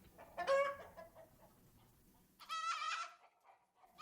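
Chickens clucking in a medieval strategy game, two short bursts of squawking fowl calls close by with quiet gaps between, no talking.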